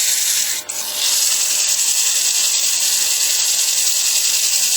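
Close, steady scratchy rubbing of 120 grit sandpaper on a wooden vase, a continuous bright hiss with a brief dip near the start, no voices.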